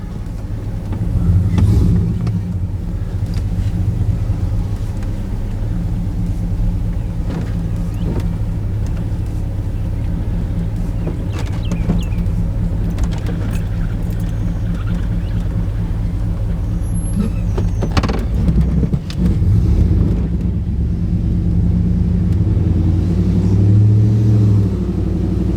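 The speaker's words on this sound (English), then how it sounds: "let's take this thing for a ride now" Pickup truck driving with traction control off after a rear gear job, its engine and road noise a steady loud rumble from inside the cab, with a few knocks and a brief mechanical burst partway through.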